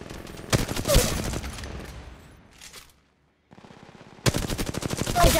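Rapid automatic gunfire in the mobile battle royale game Apex Legends Mobile comes in loud, close bursts, cuts out briefly to near silence, then resumes as sustained fire.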